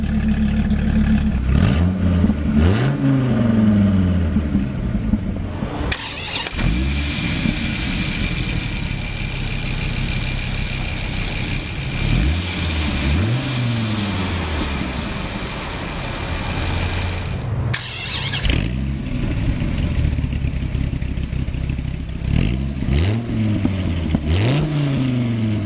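A 2003 Dodge Viper SRT-10 V10 cranks and fires, then settles into a loud, rough idle punctuated by repeated sharp throttle blips that rise and fall, close up.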